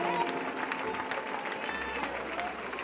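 Concert audience applauding a Cuban band, a steady wash of clapping with crowd noise and some voices mixed in, fairly loud and continuous throughout.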